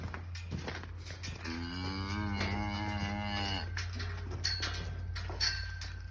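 A cow moos loudly and steadily in a homemade cattle handling facility with a squeeze chute and gates, with a low hum and a few clanks around it.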